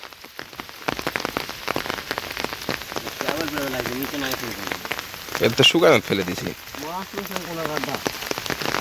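Torrential rain pours down over a Bangladeshi village fishing spot, a dense unbroken wash of falling water close by, while voices chat loudly on top of it.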